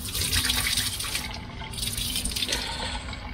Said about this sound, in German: ich werde dir die ganzen Wasserflaschen auffüllen. Und ich habe hier ein Wasserhahn gefunden.